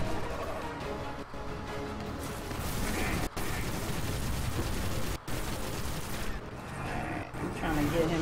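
Rapid gunfire fires at the boss Sepiks in Destiny, a dense, continuous stream of shots and mechanical clatter with a few brief gaps, with a player talking over it.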